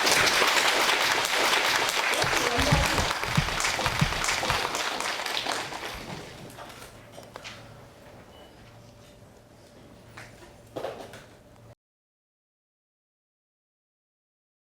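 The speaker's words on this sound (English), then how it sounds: "let us, with warm applause, welcome the respected Khenpo Sodargye Rinpoche" Warm applause welcomes Khenpo Sodargye Rinpoche at Hunan Normal University, a loud burst of clapping from a large audience that gradually thins and fades to quiet, followed by silence.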